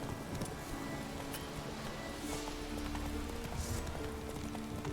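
Horse hooves galloping in The Witcher 3: Wild Hunt, a steady rhythmic clip-clop of an armored horse at speed, fairly faint under game ambience and music.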